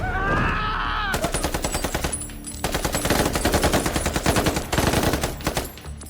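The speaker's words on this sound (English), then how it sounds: "They spray gunfire for ages" Machine gun fire rattles in long, sustained bursts of rapid shots, loud and close, with brief pauses between volleys.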